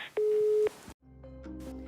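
A phone line busy signal plays a short steady tone, then falls silent before low hum and faint tonal noise continue.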